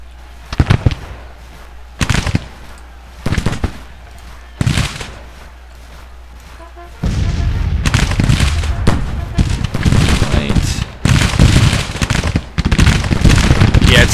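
Musket volleys and cannon fire crack in a Civil War battle video game, with sharp separate bursts at first and then a dense, continuous roar of gunfire that carries to the end.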